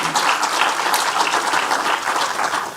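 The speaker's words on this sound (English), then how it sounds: "Can I ask that we all clap and recognize the successes of these 30 years?" Sustained applause from a large audience clapping together, loud and dense throughout with no pauses or voices standing out.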